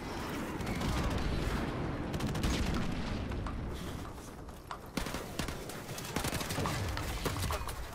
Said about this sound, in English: Let the airstrike go past